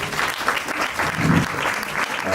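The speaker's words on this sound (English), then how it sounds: "Let's give them a round of applause" Festival audience breaking into applause for the organising team, a short burst of thick, close clapping filling the whole moment with a few voices underneath.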